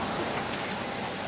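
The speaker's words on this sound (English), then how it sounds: "Still raining" Steady rain falling, a continuous broadband hiss of drops on surfaces, moderately loud and even throughout with no voices.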